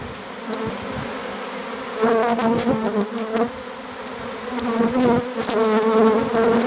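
A honey bee swarm gathering around a bucket, its members still settling on a branch nearby: a dense, continuous buzzing drone of many bees, close and fairly loud, swelling in places.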